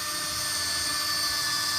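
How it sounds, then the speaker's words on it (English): A large power drill boring into the ground while a tree fern is being transplanted, running as a steady, loud, high-pitched whine with a continuous motor drone and no breaks. "It's the biggest drill I got."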